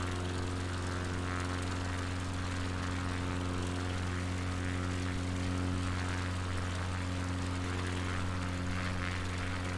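A propeller aircraft engine drones steadily in Microsoft Flight Simulator on a bush flight over Patagonia, its loud constant hum and propeller tones running evenly throughout with no talk.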